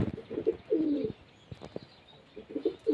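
Pigeons coo nearby in low, throaty bursts, a few rolling calls, then a pause before more cooing returns.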